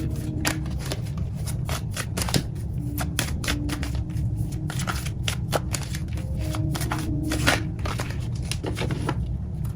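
Tarot cards being shuffled continuously, with a dense run of soft riffling flicks and taps close by over a steady low background hum.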